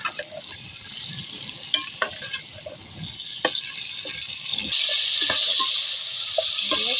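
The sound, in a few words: chicken frying in oil with garlic and ginger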